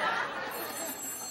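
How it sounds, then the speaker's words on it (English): A telephone bell rings in a talk-show studio, loud and close, as a brief trill with crowd murmur underneath. "is that the phone?"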